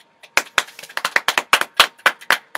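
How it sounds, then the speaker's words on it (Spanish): Only a few hands clap close by at a live home music show, giving about fifteen sharp, separate claps in an uneven rhythm. "Démosle el aplauso."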